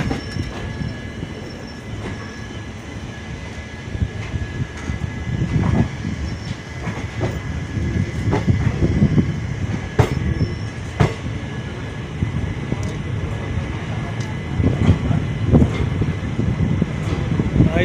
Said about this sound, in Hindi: यहाँ से ताप्ती गंगा एक्सप्रेस का तो डिपार्चर हो चुका है आजमगढ़ रेलवे स्टेशन से।